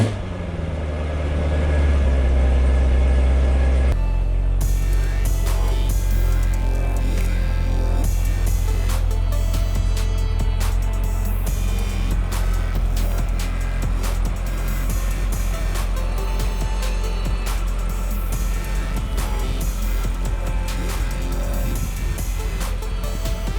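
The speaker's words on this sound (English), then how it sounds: "Let me go ahead and give y'all a small cold start real quick." A Corvette C6 ZR1 engine cold starts with a sharp catch after a few seconds of quiet, then settles into a deep, loud, rumbling idle with the valve closed, steady low throb continuing to the end.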